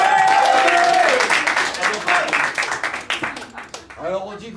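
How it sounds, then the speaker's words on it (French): An improv theatre audience at a Paris festival applauds loudly, a dense burst of clapping that thins into scattered claps as a performer's voice comes back in at the end. "applaudis s'il vous plaît"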